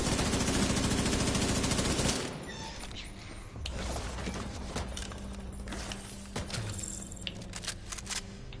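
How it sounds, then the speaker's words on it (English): Rapid automatic fire from a police M4 rifle in Division 2: a dense, loud burst of shots for about two seconds, then scattered, quieter gunfire and impacts during a firefight. "And the fire rate for this gun is so high, run out of ammo pretty quick"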